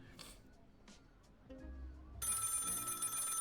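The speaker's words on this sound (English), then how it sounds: "The phone is ringing." In a Paranoia video game, a telephone bell starts ringing partway through, bright and steady over low background hum, after a few faint scattered sounds.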